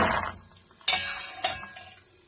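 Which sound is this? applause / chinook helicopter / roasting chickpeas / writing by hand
roasting chickpeas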